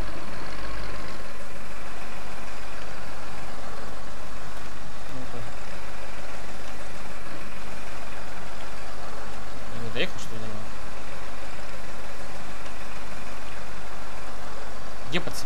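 A tractor engine in the farming game Farm Expert 2017 idles with a steady low drone and rumble beneath a person talking throughout.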